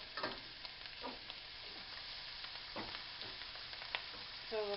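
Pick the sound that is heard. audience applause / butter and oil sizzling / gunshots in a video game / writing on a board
butter and oil sizzling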